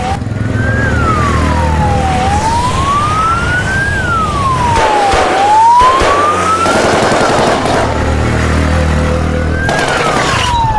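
A loud ambulance siren wails up and down in slow sweeps over traffic noise, close by and continuous.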